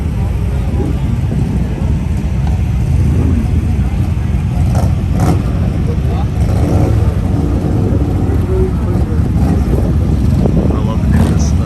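Motorcycles rumble and roar at the Sturgis drag races, a loud, continuous engine drone that rises in a few bursts, with voices talking over it.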